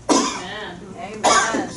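Two loud, close coughs from a man, the second about a second after the first, each a harsh burst with a short rough tail.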